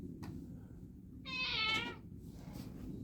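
A cat gives one short, clear meow, faint and alone against a quiet background hiss.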